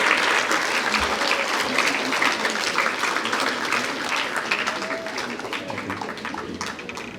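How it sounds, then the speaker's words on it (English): An audience at a panel session on Spanish reports of the 1798 battle in Belize gives a sustained round of applause, dense clapping that fills the room and slowly fades. "Please give all our distinguished panels a warm welcome and round of applause."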